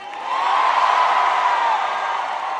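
A concert crowd roars with sustained cheering and high whoops, a broad, loud wall of sound that rises quickly and stays full before easing slightly.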